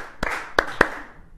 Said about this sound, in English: That's a pretty lame clap.